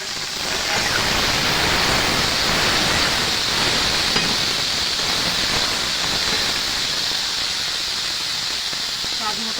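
Ridge gourd pieces with ripe chillies sizzle in hot oil for a Bengali jhinge korma, a steady loud broadband frying hiss running throughout without pause.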